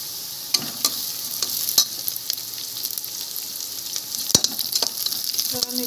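Green chillies frying with browned onions in a pan, a steady close sizzle broken by sharp scraping stirs of a spatula, with no talk.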